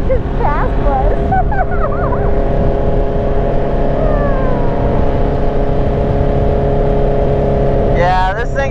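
A Honda Fireblade sport motorcycle engine running loud and close at steady high revs, a sustained droning roar with a brief rising whine near the end and a voice talking over it.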